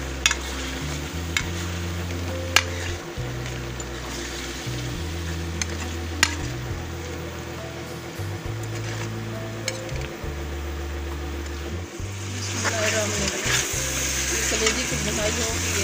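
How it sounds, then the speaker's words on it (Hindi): Chicken liver frying in masala in a pan, a steady close sizzle broken by regular scraping stirs, with a low fan-like hum underneath and the frying growing brighter near the end. "कलेजी की भुनाई हो गई है माशाल्लाह, बहुत खुशबू आ रही है अल्हम्दुलिल्लाह।"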